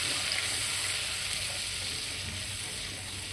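Tomato puree from three tomatoes being sautéed and stirred for rajma gives off a steady, even sizzle at moderate volume, continuous and unbroken, with no talking.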